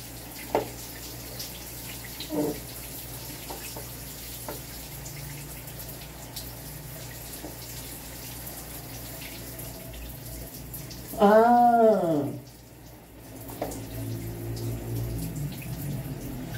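Water running from a new household shower, a steady hiss of spray filling the space, with a brief louder gush and tonal squeal partway through, then the flow settling again.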